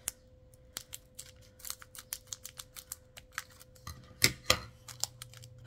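Scissors snip through the plastic wrapper of a Digimon Card Game booster pack, a rapid series of sharp close clicks and cuts with a couple of louder snaps near the end.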